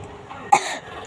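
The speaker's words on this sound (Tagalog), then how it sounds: "Umubo ako. Nauubo kasi ako." One short, sharp cough from a nearby person, sounded alone against a faint background.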